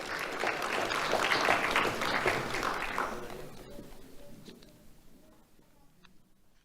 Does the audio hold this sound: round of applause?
yes